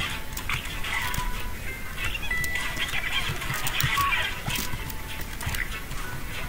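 Game chicken from Atomicrops clucking in short, quiet bursts over a low soft background, a few light squawks scattered across the stretch.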